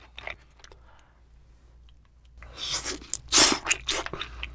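Raw seafood, including cut baby octopus, being eaten up close, with wet chewing and crunchy bites that begin softly and grow louder and denser toward the end, no talk.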